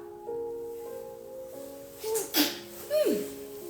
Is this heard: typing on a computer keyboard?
no